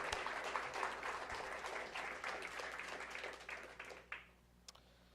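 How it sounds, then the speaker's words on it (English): An audience at a high school board of education meeting applauds, a steady, fairly faint round of clapping that tapers off and stops near the end. "we need to give a big round of applause once more"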